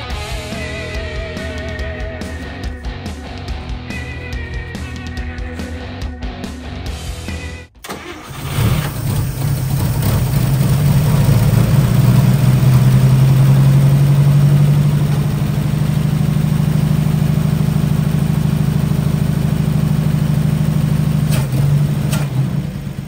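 A 1955 Chevy engine fires up after 40 years off the road, catching with a sudden loud start and then settling into a steady, rumbling run close by, sustained without a break.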